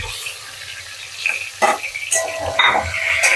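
Rohu fish pieces dropped into half-heated oil in a pan, a close sizzle that builds after a soft splash, with the frying hiss growing and crackling in bursts.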